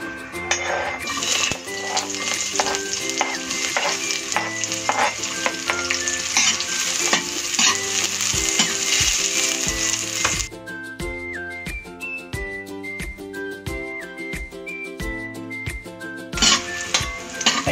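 Garlic fries in a hot pan with a loud, continuous sizzle and crackle. Frequent metal stirring and clinks of a utensil against the pan run through it, and the sizzle drops off sharply partway through before returning.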